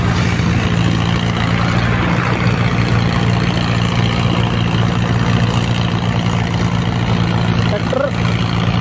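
A 60 hp Mahindra Arjun 605 tractor engine idles with a steady low rumble, close and constant throughout, with faint voices in the background.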